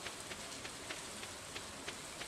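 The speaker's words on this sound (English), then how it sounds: "I've always found the sound of rain to be kind of nice." Steady rain falling in the farming game Stardew Valley, a continuous hiss of drops spattering on surfaces with faint periodic taps, moderately quiet and heard alone without talk.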